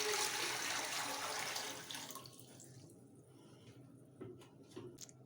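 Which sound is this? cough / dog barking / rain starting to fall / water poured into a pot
water poured into a pot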